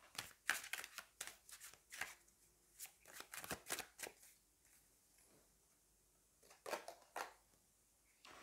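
Tarot cards are shuffled and drawn in a quiet room, with soft, irregular bursts of riffling, flicking and card snaps separated by brief pauses.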